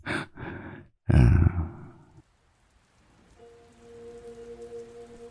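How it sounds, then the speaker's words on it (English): Light drizzle patters softly and steadily on an outdoor surface, a faint continuous hiss that comes in after a breathy sigh and a pause. "I step into the drizzle"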